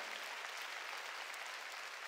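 A church congregation claps steadily during a Korean sermon, a faint, even patter of many hands lasting a couple of seconds with no voices.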